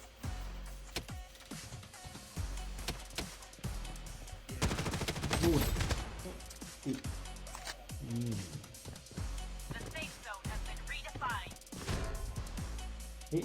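Gunfire in the mobile shooter Blood Strike comes in sharp rapid bursts, with one dense loud volley midway among scattered shots and game effects, while someone talks over the action.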